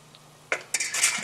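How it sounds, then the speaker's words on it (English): A spoon stirs chicken and potato curry in a metal pot, scraping and clinking against the sides in a few quick strokes after a quiet moment, close and fairly loud. "you have to keep stirring at this point"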